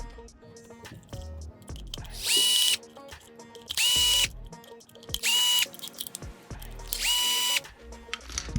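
A small power driver backs the screws out of a budget RC car transmission in four short, sharp whirring bursts, close up, with clicks and the clatter of parts between them.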